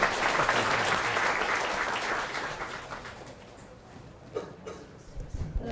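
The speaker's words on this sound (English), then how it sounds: "please give a warm round of applause for our next speaker" Audience applause at a Python programming conference, PyCon HK 2024, welcoming the next speaker: a dense, steady wash of many hands clapping that gradually thins and fades, with a few scattered claps near the end.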